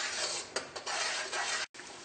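Aloe vera pulp mixture stirred over a medium flame in a pan, a steady close scraping and sizzling texture with a few sharp utensil knocks and a brief gap near the end.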